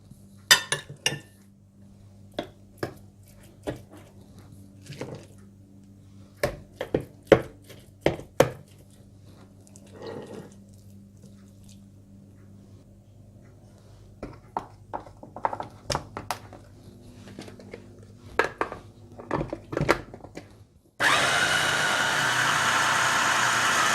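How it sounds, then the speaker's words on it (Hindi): Scattered knocks and clinks come first, then an electric grinder starts abruptly near the end. It whirs loudly and steadily as it grinds minced meat (keema) with mixed ingredients, and no one speaks. "इसमें कीमा डालकर अच्छी तरह से पीस लें"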